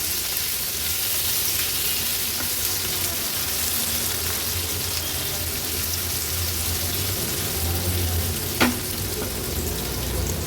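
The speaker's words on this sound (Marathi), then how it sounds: "कांदा तेलावर परतून घ्यायचा आहे आपल्याला." Chopped onion and green chili frying in hot oil in a pan, a steady continuous sizzle running close and even throughout with one brief clink of a utensil near the end.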